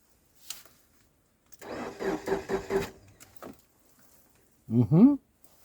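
A 2005 Subaru Legacy engine cranks and starts in a garage during repair work, a rhythmic burst of starter chugging lasting about a second before catching, followed by a brief voice nearby.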